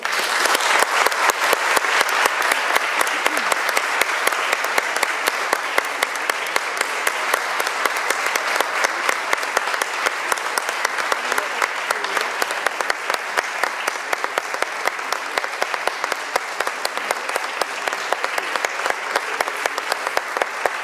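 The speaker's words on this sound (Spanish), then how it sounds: "Así que los recibimos con un fuerte aplauso." Loud, sustained applause from a concert audience at a Canary Islands Day celebration concert, dense steady clapping filling the hall for about twenty seconds without letting up.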